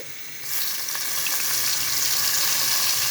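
Beef cooking in a pan with chilli, coriander and turmeric powders being stirred in, a close hiss that jumps into a loud, steady sizzle and holds for the rest of the clip, with no talking.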